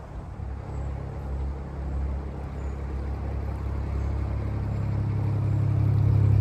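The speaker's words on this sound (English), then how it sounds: "Another boat that's moving." A low, steady engine rumble slowly grows louder as a canal narrowboat approaches and chugs past nearby.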